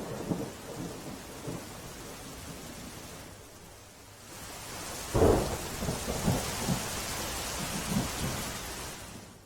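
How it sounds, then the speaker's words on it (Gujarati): Heavy monsoon rain pours steadily over Gir Gadhada, a dense hiss of drops hitting the ground, broken by a rumble of thunder and a sharper crack partway through, with the downpour continuing loud and unbroken throughout. "ગીર સોમનાથ જિલ્લામાં સવારથી જ ધોધમાર વરસાદ વરસી રહ્યો છે."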